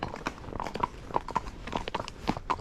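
Horse hooves on a trail at a smooth gait, a run of uneven clip-clop strikes a few to the second, fairly close and moderately loud over a light outdoor background.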